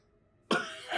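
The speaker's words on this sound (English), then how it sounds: "Did you hear that cough down the hallway?" A single sharp cough from down a hallway, bursting in at mid-clip after near silence and trailing off into a rough, breathy tail.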